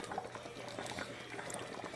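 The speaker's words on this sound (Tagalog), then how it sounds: "kumukulo na po siya" Steady bubbling and hissing of liquid boiling in a pot, continuous and close, with faint clinks and no talking.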